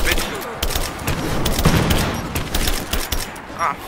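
Rapid gunfire bursts and scattered shots crackle continuously in Rise of the Tomb Raider combat, loud and dense throughout.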